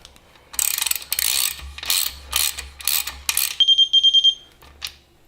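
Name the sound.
ratchet with 17mm socket installing Porsche 911 engine cap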